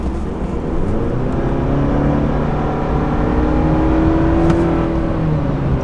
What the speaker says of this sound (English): You do hear some turbo sounds from the turbocharger